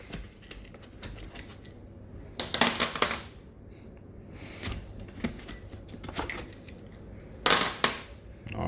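Metal engine bolts for an M177 engine build being handled: scattered sharp metallic clinks and small jangling bursts, close by, with quiet pauses in between and no voices.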